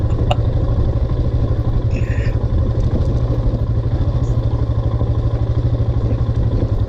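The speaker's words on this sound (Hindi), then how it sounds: "हिमालयन बाइक का एक रोड टेस्ट हो रहा है ये" A Royal Enfield Himalayan motorcycle riding on a road in Sikkim, its engine giving a loud, steady, close thumping rumble with a constant pulsing beat, with no speech.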